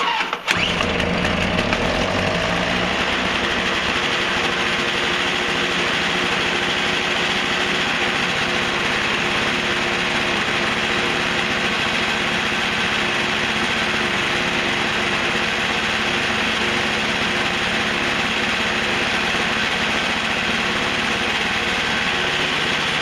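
A Toro CCR snowblower's small engine, carburetor freshly rebuilt, catches after a short start and then runs steadily and loudly nearby for the full stretch, a continuous rough buzzing drone with no talk over it.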